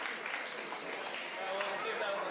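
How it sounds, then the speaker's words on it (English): Crowd applause at a robot combat event, dense clapping from a sizeable audience with a commentator's voice running over it. "Round of applause here."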